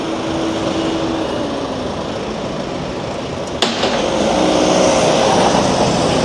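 Road traffic passes a zebra crossing on a Paris street in November, a continuous engine hum with a sharp transient midway and a louder vehicle swelling close by toward the end.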